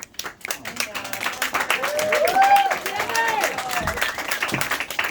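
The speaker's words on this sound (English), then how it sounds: "Continue that round of applause for Denver." An audience claps and cheers after an open mic performance, with steady applause throughout and a voice talking over it.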